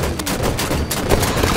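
Rapid gunfire in a multiplayer shooter game, a dense run of shots stacking up loud and close across the whole moment with no pause and no talk over it.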